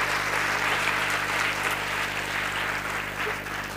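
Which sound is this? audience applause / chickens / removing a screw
audience applause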